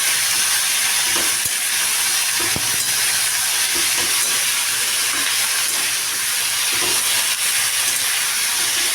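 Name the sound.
eggs frying in a pan for egg curry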